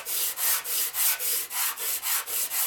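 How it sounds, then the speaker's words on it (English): Rhythmic sanding of a metal oil pump body from a 1947 Harley-Davidson EL 74ci knucklehead engine, about ten even back-and-forth strokes with a dry, gritty rasp, close up and steady. "So we're gonna do a little sanding on it."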